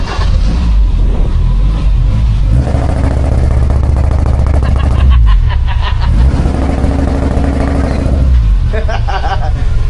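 A racing car engine, a 3TC in a wagon, roars loud and steady against a rev limiter set at 2,000, with the limiter's rhythmic stutter close up and people talking over it.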